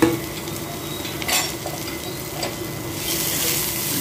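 Chopped onion with salt, asafoetida and turmeric sautés in a pan, a soft steady sizzle broken by a few scraping stirs of a spoon, close and alone.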